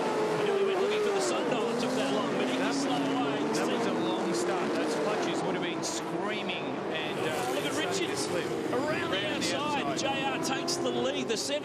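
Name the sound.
Touring Car Masters race cars starting, Mustangs, Javelin, Camaro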